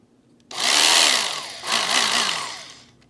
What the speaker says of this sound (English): you're going to grab one of your family's most precious meat cutters and use that. This cuts foam very good, especially upholstery foam.